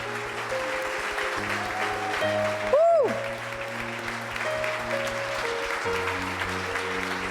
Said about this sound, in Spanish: quiero que le des un fuerte aplauso al Señor